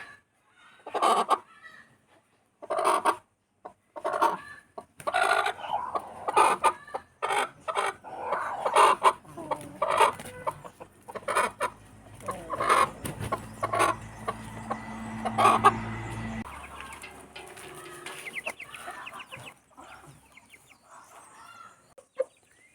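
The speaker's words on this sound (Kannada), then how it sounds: "ಕೋಳಿಗೆ ಮೊಟ್ಟೆ ಬಂದಿದೆ, ಹಾಗಾಗಿ ಇದನ್ನು ಬಿಡಲಿಲ್ಲ, ಎಲ್ಲ ಇಟ್ಟಿದ್ದೀನಿ." Backyard hens cluck repeatedly at close range, with one hen about to lay an egg. The clucks come in short, uneven bursts that go on throughout with no talking.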